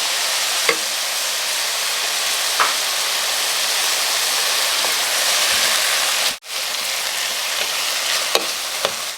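Button mushrooms stir-frying in a pan with oyster sauce give a loud, steady sizzle throughout, with a few sharp ticks and one brief dip in the hiss partway through.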